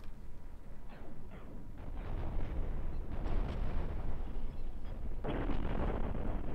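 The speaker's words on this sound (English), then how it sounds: "without shields, these weapons will rip a ship to shreds" Spaceship weapons firing in Cosmoteer, a rapid irregular run of muffled booms and bursting impacts that builds into a dense, rumbling barrage at moderate volume.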